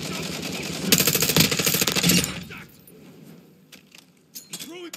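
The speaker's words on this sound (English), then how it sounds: "Reloading! Changing mags!" Magazine swap on a weapon in Modern Warfare 2 Team Deathmatch on Crown Raceway: a dense burst of metallic rattling and clinking for about a second and a half, then quieter clicks and faint handling sounds with brief voice fragments.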